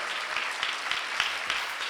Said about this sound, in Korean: 네 분께 큰 박수 부탁드립니다